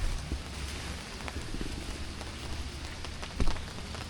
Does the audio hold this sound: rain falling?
yes